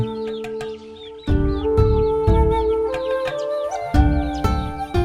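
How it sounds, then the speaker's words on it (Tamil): Chicks that have hatched in a chicken egg incubator peep in quick, high chirps close by, alongside a steady mechanical hum that drops in and out. "இதுதான் கோழி குஞ்சு பொரிக்கிற மிஷின்."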